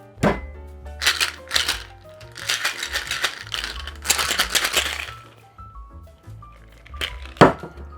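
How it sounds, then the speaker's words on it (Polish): Ice cubes from a freezer rattle and crack inside a cocktail shaker in loud, dense bursts of clattering, with a sharp knock near the end. "lód z zamrażalki, który cały czas tu był, wsypuję do wstrząśnika. Wszcząsam"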